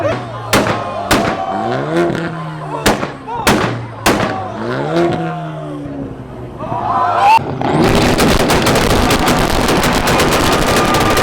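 Toyota Supra at a 2-step competition, launch-control pops and loud bangs cracking over a rising engine, with repeated sharp reports, then a sudden harsh, noisy roar as the engine lets go; crowd voices are heard.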